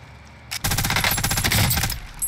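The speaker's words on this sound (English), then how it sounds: "Hey, stop shooting at him, bruh." Automatic gunfire in Warzone, a close, loud burst of rapid shots in quick regular succession lasting under two seconds, followed by a brief quieter shot.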